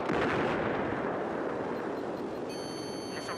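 A missile launches in the video game Battlefield 4 as a loud, sustained roaring rush that slowly fades, with a few thin electronic tones entering near the end.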